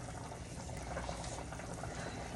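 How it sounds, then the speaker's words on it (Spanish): Pumpkin (auyama) soup with added water and seasonings boils in a pot on the stove, giving a faint, continuous hiss of steady bubbling with no clear breaks. "ustedes pueden ver cómo esto está hirviendo"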